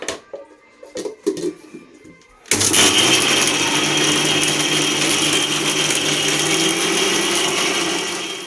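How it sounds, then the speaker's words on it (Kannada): After a few soft clinks and handling sounds, a mixer grinder starts loudly and runs at a continuous steady whir until the end, grinding coconut. "ಕೊಬ್ಬರಿಕಾಯಿ ಆ್ಯಡ್ ಮಾಡ್ಕೊಂಡು ಈಗ ಮಿಕ್ಸಿಲಿ ರುಬ್ಕೋಬೇಕು"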